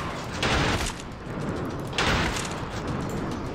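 Two heavy shotgun blasts ring out in the first-person shooter Trepang 2, about a second and a half apart. Each is a broad, loud boom with a rumbling tail, set in continuous game noise.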